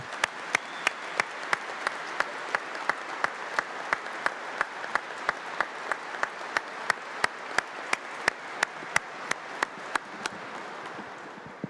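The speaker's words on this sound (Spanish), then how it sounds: "Le damos un fuerte aplauso a nuestra madre." A church congregation at a Mass for the feast of Christ the King, honoring the Virgin of Luján, claps in a sustained steady wash, with one sharp close clap repeating in a regular rhythm above it until it fades out.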